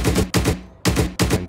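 Tank gun fire in the PC game Gunner HEAT, four sharp, loud reports in quick rhythm, each with a short decaying tail, heard close and alone.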